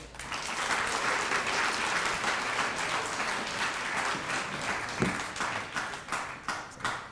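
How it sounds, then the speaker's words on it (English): Sustained applause from a graduation ceremony crowd fills the space, then breaks into a few separate, fading claps near the end. "Please give another round of applause for Dr."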